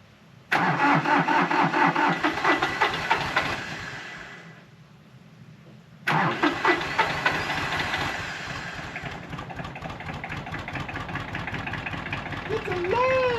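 A farm tractor's engine cranks and catches, runs briefly, then dies away. It cranks again and fires back up into a steady, rumbling idle close by.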